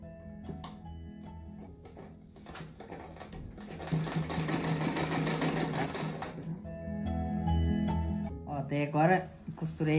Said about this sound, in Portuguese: Daí agora costurei essa faixa aqui certinho